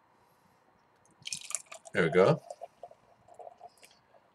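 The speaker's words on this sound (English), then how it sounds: "Pour it right into the glass." Drake's Hopocalypse hazy double IPA is poured into a glass, giving a brief close gurgling splash with dripping and clicking around it. Someone speaks briefly over the pour.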